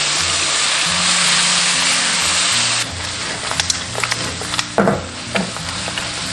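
Lamb ribs frying in a wok as caramelized sugar syrup is poured in, a steady loud sizzle that drops off and turns into irregular stirring, scraping and spattering sounds.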